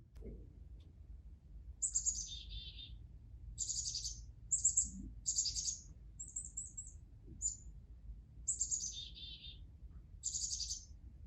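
A chickadee gives its alarm call in a series of sharp, high chittering notes and short repeated phrases, spaced a second or two apart. It sounds close and clear against quiet low background noise, with no talking.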